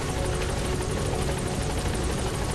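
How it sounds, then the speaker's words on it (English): A video game helicopter in MGSV flies in, its loud, constant rotor chop and engine roar filling the scene close up without a break. "Yeah, I got the helicopter pretty well upgraded"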